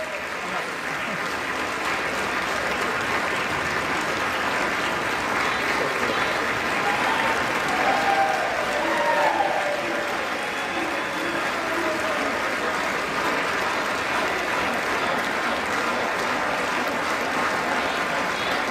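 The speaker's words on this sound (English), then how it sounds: "And, of course, the crowd went wild." A large crowd in a legislative chamber applauds loudly and continuously after the election of a new House Speaker, a dense, sustained roar of clapping with some cheering and voices mixed in.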